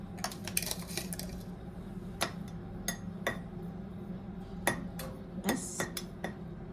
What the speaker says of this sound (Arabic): هاتي معلقه نضيفه يا خديجه